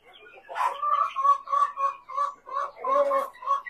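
Chickens clucking and calling in a pen, a series of short harmonic clucks and squawks close by in a steady run, several birds overlapping, with no talk over them.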